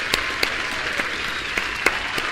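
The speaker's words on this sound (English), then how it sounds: "Hold on, everybody, a round of applause." Applause for a newly welcomed guest on a chat stream, a thin steady patter of clapping with a few sharper individual claps standing out, moderately loud and continuous for a couple of seconds with no talking.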